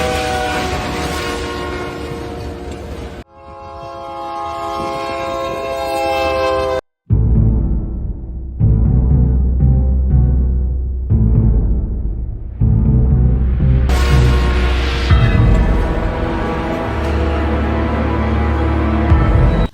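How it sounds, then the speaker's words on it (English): Union Pacific Big Boy 4014 steam locomotive at Harriman, Wyoming, loud and close: long whistle blasts broken by a brief gap, then heavy running gear, chuffing and wheel slip roaring beneath further whistling. "Big Boy 4014 unleashes raw power in Harriman, Wyoming as wheel slip, whistle blasts, and running gear roar"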